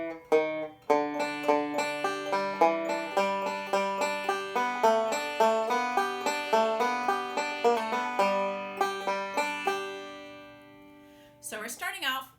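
A banjo picks the first phrase of the "Suns Gonna Shine In My Back Door Someday" break, opening with pickup notes on the fourth string, then a bright, rapid, evenly rolling run of plucked notes that rings out, followed by a brief noisy stretch at the end.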